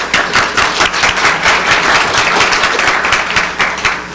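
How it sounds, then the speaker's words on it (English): An audience at an education association's legislative conference gives the panel members a round of applause, dense and steady clapping from many hands throughout, fairly loud and close. "thank our panel members for their hard work to date. Give them a round of applause."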